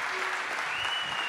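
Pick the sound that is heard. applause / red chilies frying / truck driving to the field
applause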